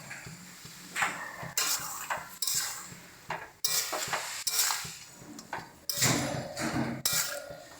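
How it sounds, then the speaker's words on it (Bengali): A spoon scrapes and clanks around a pan of tomato chutney with green chilies, making repeated rhythmic stirring strokes with soft sizzling underneath. "সমস্ত কিছু দিয়ে এটাকে ভালো মতন করে মিশিয়ে নেব।"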